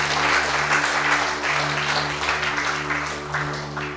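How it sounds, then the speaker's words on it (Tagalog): A church congregation claps together during a sermon, producing a full, continuous round of applause over a low steady hum, slowly tapering across four seconds. "Ating minsan pang palakpakan ng Panginoon, mga mahal kong kapatid."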